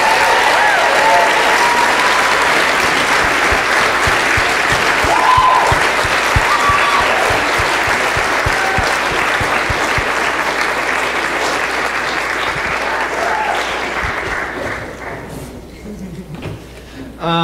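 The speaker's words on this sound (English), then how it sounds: "Give a round of applause for Kim if she's here." High school theatre audience applauding the assistant lighting director after a Guys & Dolls performance, a long sustained roar of clapping that gradually thins and fades toward the end, with scattered voices in the crowd.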